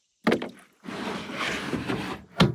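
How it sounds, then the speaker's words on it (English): Cooler of water and minnows poured into a pond: a hollow knock of the plastic cooler, then a sustained gushing splash of water pouring out, ending with another sharp thump of the cooler. "we're gonna just pour the whole cooler in"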